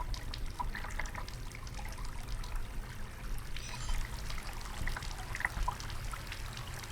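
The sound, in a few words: water flowing through a pipe, from the video game Asylum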